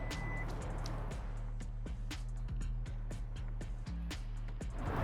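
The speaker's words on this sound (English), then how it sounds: "this car does have the power liftgate on the SCL, so let me go ahead and open that for you really quick" The power liftgate of a 2022 Hyundai Ioniq 5 SEL rises with a steady motor hum, marked by a repeating series of sharp short beeps and clicks, close and clear.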